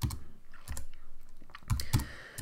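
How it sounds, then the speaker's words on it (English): Keys clatter on a computer keyboard while HTML list item tags are typed, in short bursts of quick clicks separated by brief pauses, close and fairly quiet. "So we just start by typing an opening list item tag"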